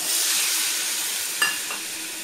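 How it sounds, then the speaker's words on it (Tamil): Potato and peanut sundal with spice mix is stirred in a hot pan, a steady close sizzle with a brief scrape of the spoon partway through and no talking. "இதை நல்லா கலந்து விட்டுக்கோங்க"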